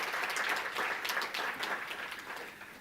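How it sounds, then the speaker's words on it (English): An audience at an English language training management conference applauds, a faint, steady wash of many hands clapping that slowly fades over a few seconds. "please give everyone involved with that a round of applause"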